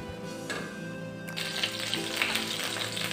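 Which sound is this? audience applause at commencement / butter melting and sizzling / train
butter melting and sizzling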